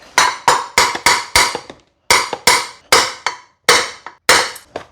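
Sharp metallic taps strike the top of a part on a broken lawn mower, a dozen ringing hits in quick groups of three to four with short pauses, loud and close.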